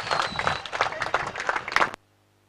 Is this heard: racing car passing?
no